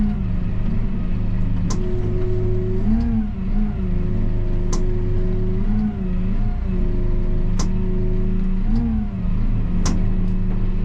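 A Kubota M6-131 tractor with a snowblower attached maneuvers in a tight space, its diesel engine droning loudly and steadily, rising and falling in pitch as it revs, with a few sharp clicks and clanks.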